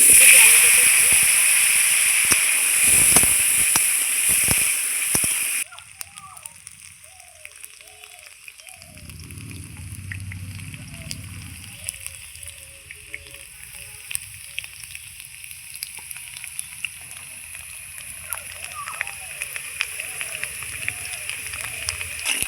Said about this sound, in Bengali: এইবার আমি আলুটা ভেজে নেব ওই তেলেই। দেখুন কেটে ধুয়ে রাখা আলুগুলো দিয়ে দেবো